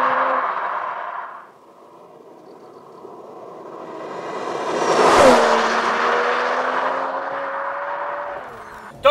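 A 2023 Mercedes-AMG CLS 53 4Matic+ accelerates hard, its engine note rising steadily through the revs and then dropping sharply at a gear change before climbing again, loud and close with wind noise.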